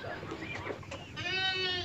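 Goats and sheep bleat in a farm pen, a clear sustained bleat rising near the end above murmuring voices and pen noise.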